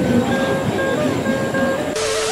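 A Vande Bharat train rolls into Thane station, a steady rumble with a tonal electric whine and faint rail noise, close and continuous with no talking.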